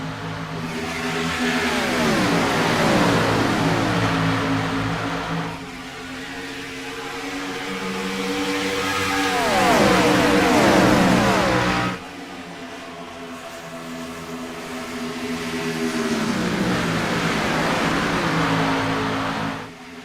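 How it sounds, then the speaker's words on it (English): Gen 4 stock-style race cars in the iRacing simulator at Texas roar past, engines revving hard in repeated rising and falling sweeps, loud and continuous with brief dips between passes. "Apologize if the engine sounds were a little too loud there."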